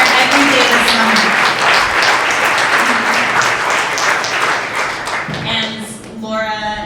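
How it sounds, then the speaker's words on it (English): A crowd at a launch day event claps in sustained, dense applause that tapers off near the end, with a voice speaking over it. "everyone give Joe a huge round of applause"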